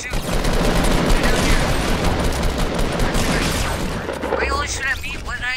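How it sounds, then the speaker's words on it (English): Rapid bursts of gunfire in the Fortnite Battle Royale game, dense crackling shots for several seconds, then a voice over fading fire. "Why are you only shooting at me?"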